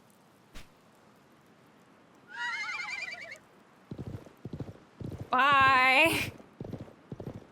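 A horse's whinny rings out twice, the second louder and longer, with a run of clip-clopping hoof beats between them in a Wild West scene from the game Live A Live; a brief voice is heard.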